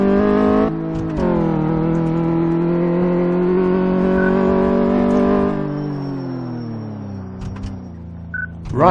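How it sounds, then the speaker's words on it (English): A car in Car Mechanic Simulator 2014 running a bumpy suspension test: a loud, steady engine hum rises and falls in pitch, with a few knocks at the start and near the end. "suspension test. It's a bumpy ride."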